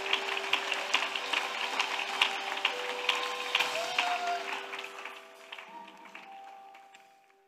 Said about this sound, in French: Clap offering to Jesus.